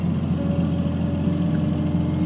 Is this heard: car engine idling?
yes